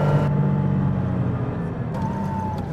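A Porsche 911 engine fitted with Weber carburetors runs steadily at idle, a continuous mechanical rumble with a faint whine, heard close and on its own.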